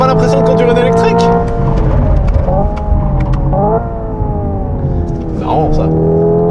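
A 650-horsepower Hyundai Ioniq 5 N electric car accelerates hard, its synthesized engine note rising in pitch and dropping at each simulated gear shift, loud and close, with someone talking over it.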